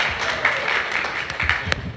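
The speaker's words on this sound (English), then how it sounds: "Yes, we clap for him." Audience applause for a correct answer at a workplace safety-day gathering, a steady wash of many hands clapping with a few sharper claps standing out, fairly close and sustained throughout.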